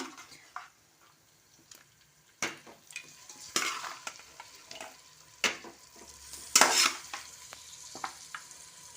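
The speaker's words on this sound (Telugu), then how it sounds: "ఆనియన్స్ అల్లం పేస్ట్ అయితే ఫ్రై అయిపోయింది మంచిగా పేస్ట్ బాగా ఆయిల్లో ఫ్రై చేసుకుంటే పచ్చి అంతా పోతుంది కదా" Onion and ginger paste frying in oil for a country chicken curry, a soft low sizzle broken by sharp bursts of stirring and spatula scrapes against the pan at irregular intervals, with no talk.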